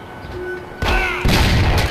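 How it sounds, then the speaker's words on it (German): A shotgun fires twice in the video game Mafia, two heavy booming blasts roughly half a second apart over faint game ambience, each leaving a long rumbling tail, with no voices. "Schrotflinte."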